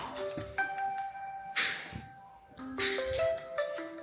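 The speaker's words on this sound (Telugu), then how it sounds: "ఫోన్లు వస్తున్నాయి అమ్మమ్మకి." A mobile phone rings in a home kitchen with repeated electronic ringtone tones in short patterns, fairly quiet, alongside light clatter and no talking.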